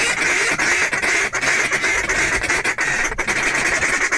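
Several duck callers, four or more, blowing an aggressive feed call together: a dense, loud, continuous rapid chatter of overlapping quacks with no pauses.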